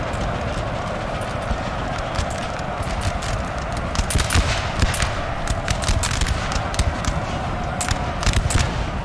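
Musket volleys crackle in a strategy video game battle between French and Austrian armies, with dense overlapping gunfire bursts and steady rumbling hoofbeats of massed cavalry running throughout.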